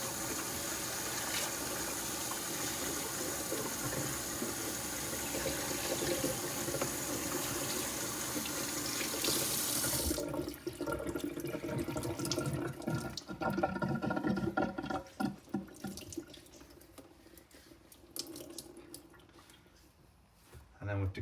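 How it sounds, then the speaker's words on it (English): Running tap water pours steadily as a soapy synthetic wig is rinsed, a continuous close splashing stream that shifts in tone partway through as the wig moves under the flow, with a voice talking over it. "Now we're gonna grab it by the ear tab still and rinse it out."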